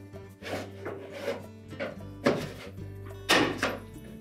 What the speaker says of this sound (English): take your putty knife and go into that gap between the cover and the control panel